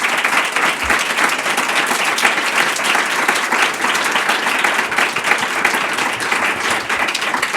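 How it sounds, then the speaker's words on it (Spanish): A conference audience applauds steadily for about seven seconds, a dense, even wash of many hands clapping at close range with no speech over it. "Yo os pido un nuevo aplauso para Lucía."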